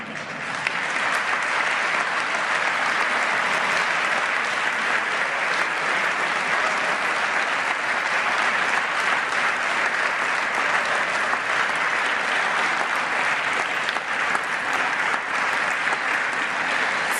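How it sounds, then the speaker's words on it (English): A large audience at a state address claps steadily and loudly, unbroken applause filling the room from start to finish. "I see less applause on this side of the room"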